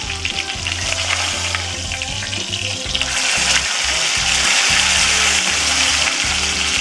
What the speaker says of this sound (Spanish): Una buena selladita la carne por todas sus caras, por todos sus bordes